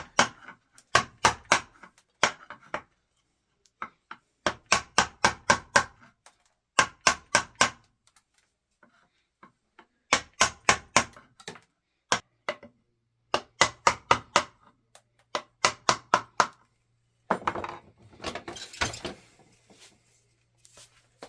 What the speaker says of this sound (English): we'll use this big number 820 gouge here and a hammer